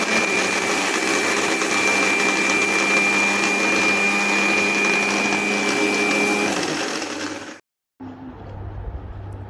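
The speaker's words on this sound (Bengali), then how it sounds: "সেই আবার তাড়াতাড়ি করে ব্লেন্ড করে নিতে হবে।" A kitchen blender grinds whole cumin seeds into powder, a loud steady whirring drone that runs continuously for several seconds, then cuts off abruptly before a quieter hum resumes.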